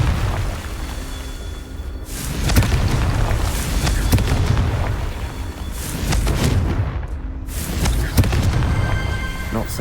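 Repeated explosive blasts from Confringo, a fire-blasting spell in the video game Hogwarts Legacy, boom out at close range in several loud bursts over a continuous rumbling roar.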